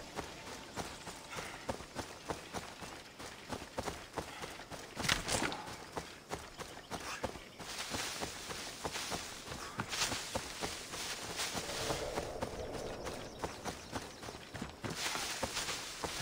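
Horse hooves galloping in Assassin's Creed Odyssey, a steady run of fast, dense hoofbeats that carries on throughout amid ambient game sound.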